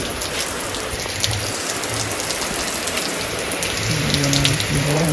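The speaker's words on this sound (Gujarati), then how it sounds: "યાર વરસાદ ચાલુ થઈ ગયો છે" Steady rain falls continuously, a dense hiss of drops on surfaces with no talking, growing slightly heavier toward the end.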